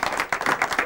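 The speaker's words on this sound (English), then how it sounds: "Give her a round of applause, please." A television studio audience applauds with a short burst of dense, rapid clapping from a modest crowd, close and fairly loud, with no talk over it.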